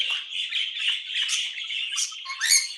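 Hormonal budgies call back and forth, a dense run of shrill squawks and chirps overlapping close by, growing louder toward the end.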